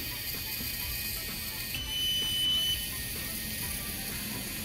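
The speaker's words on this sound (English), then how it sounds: "Makes a turn and beeps and lights the LED." Whirring small servo motors of an Arduino robot turning, then a single short high-pitched electronic beep midway, over a steady mechanical hum.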